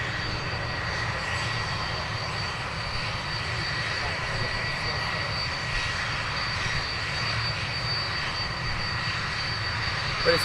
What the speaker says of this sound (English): Possibly another one taxiing up